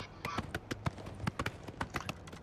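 Horse hooves clip-clopping while riding in the video game Oblivion, a steady quick run of sharp hoofbeats up close, with speech-like sound mixed underneath.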